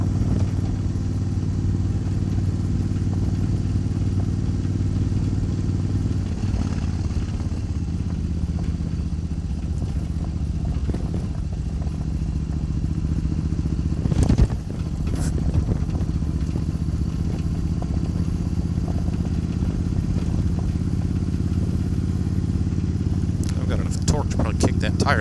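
A Suzuki Intruder motorcycle ridden on gravel roads around Mahalasville and Mt Zion, its engine a steady, close drone throughout, with a brief louder jolt partway through and a voice talking over it.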